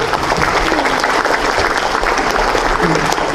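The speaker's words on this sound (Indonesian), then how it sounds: "Tepuk tangannya dong" Audience applause at a Tzu Chi community year-end blessing event in North Jakarta, a dense, steady roar of many hands clapping at once, loud and close, continuing without pause and with no voices over it.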